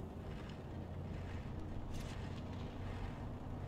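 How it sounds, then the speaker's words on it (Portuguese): A heavy vehicle's engine rumbles somewhere ahead in a video game, a faint, steady low drone mixed with soft wind-like noise. "Tem ronco de motor na minha frente aqui."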